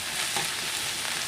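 Alamang shrimp paste sautés with garlic and onion in a pan, a dense, continuous hiss of frying, fairly loud and unbroken, with no talking.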